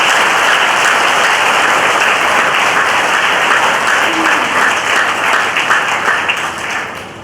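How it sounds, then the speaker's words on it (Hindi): A large crowd at a political rally claps hard and continuously, a thick roar of applause that holds steady before easing off near the end. "जोरदार तालियां बजाओ उन सभी के लिए।"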